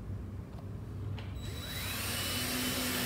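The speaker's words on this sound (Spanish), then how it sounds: "Ahí se escucha el torque del taladro," Power drill driving a small screw while installing a Blum Aventos HF cabinet lift mechanism, faint at first, then the motor spins up into a steady rising whine that holds to the end.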